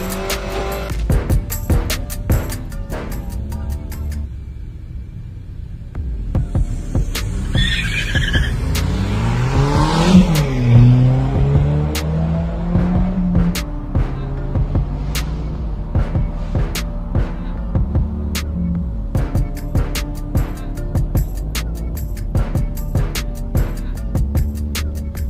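Drag racing cars launch and accelerate down a strip at a Friday night drag event, a loud roaring engine climbing through gears with tire squeal, followed by a steady rumble and rapid clicking ticks.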